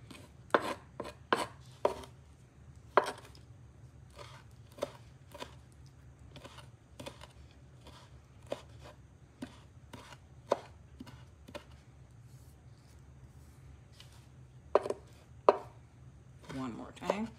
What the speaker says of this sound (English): See how finely chopped I can get this.